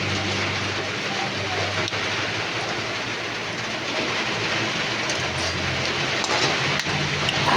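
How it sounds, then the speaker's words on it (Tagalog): Steady rain falls at night in a Philippine home kitchen, a dense continuous hiss that holds evenly throughout, with a low hum underneath and no talk. "Umuulan dito"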